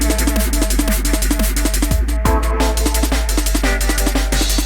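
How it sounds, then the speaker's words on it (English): Jungle-style drum and bass loop with a chopped vocal sample drenched in heavy echo, dense breakbeat drums and bass running steadily throughout, with a brief dropout and pitch-swept vocal tails near the middle. "The trick is with like jungle and that is just to put on as much echo as you can."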